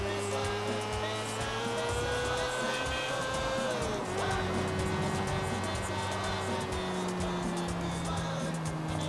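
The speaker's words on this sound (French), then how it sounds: "elle patine la moto" Motorcycle in GTA IV with its wheel spinning and slipping, a steady loud engine whine that rises, dips briefly and then holds at a high, slightly falling pitch over continuous droning noise.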